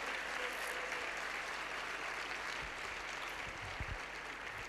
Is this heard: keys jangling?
no